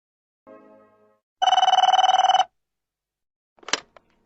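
A telephone rings: a short buzzy tone, then a longer rapid trilling bell burst, both loud and near, followed by a brief clatter as the handset is picked up.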